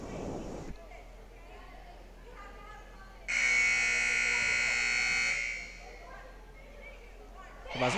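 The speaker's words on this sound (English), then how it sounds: "Buzzer sounding, letting us know it's time to resume play" A volleyball match buzzer signals the resumption of play: a loud, harsh electronic tone sounding continuously for about two seconds over faint gym ambience.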